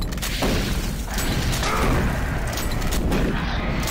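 Shotgun blasts in the video game Doom 3 boom repeatedly through a loud, dense wash of mechanical clatter and rumble, with heavy thuds coming at short, irregular intervals.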